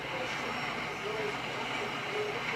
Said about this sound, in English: figured I'd mess with some trains and BeamNG Drive